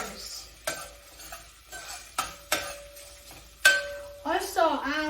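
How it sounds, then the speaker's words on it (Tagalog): Ginger added to a pot for mussel tinola: metal utensil clinks and scrapes against the pot, several sharp taps with a faint sizzle underneath, then a voice briefly speaks at the end. "first I add the ginger"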